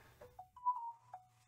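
A mobile phone rings softly nearby, playing a short melodic electronic ringtone of a few gliding tones in a quiet room.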